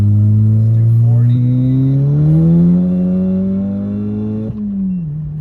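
A Volkswagen MK7 GTI fitted with a stage 2 clutch accelerates hard, its engine note climbing steadily loud and close from inside the car, then dropping sharply at a gear change before pulling again.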